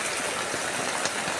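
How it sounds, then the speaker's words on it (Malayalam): Heavy rain pours outdoors in a steady, dense hiss with no breaks. "പുറത്ത് നല്ല മഴ."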